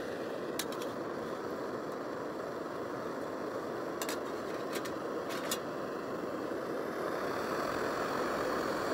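A camping stove roars steadily while heating 600 ml of water outdoors, a constant broadband rushing close up, with a few brief clicks or ticks over the top and no talking.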